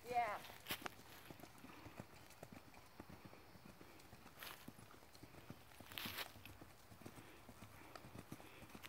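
Horse cantering, its hooves thudding in a steady rhythmic clip-clop, faint and somewhat distant, with occasional louder knocks and a low background hiss.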